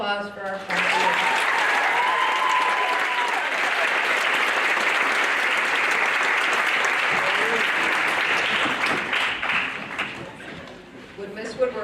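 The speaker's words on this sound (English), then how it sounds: "One more round of applause for our class." Loud, sustained audience applause at an FFA awards ceremony, a dense wash of clapping that holds steady for most of the stretch before tapering near the end, with brief voices at the start.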